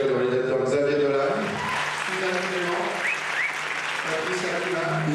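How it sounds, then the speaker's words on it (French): A large festival audience in Cannes applauds director Xavier Dolan with dense, sustained clapping, while voices and music carry through underneath. "Je vous demande d'applaudir le réalisateur Xavier Dolan."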